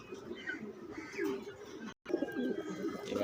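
Pigeons coo softly in a loft, low murmuring calls repeating under faint ambient noise, fairly quiet and close, with a brief dropout midway.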